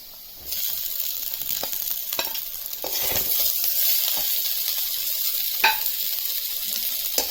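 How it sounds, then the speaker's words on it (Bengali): Soft fried vegetables are stirred into potatoes frying in oil, a continuous close sizzle with scattered spatula scrapes and knocks. No talking. "আগের যে নরম সবজিগুলো ভেজে তুলে রেখেছিলাম, এখন সেই সবজিগুলো আলুর সাথে মিশিয়ে দেব।"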